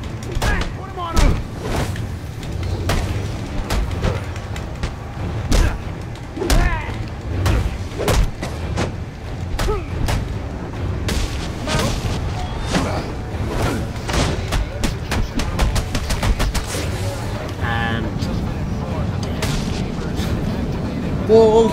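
Repeated gunshots and heavy booms ring out in the Batman: Arkham Origins video game, a dense, loud barrage of sharp bangs over a rumbling soundtrack, with voices talking intermittently.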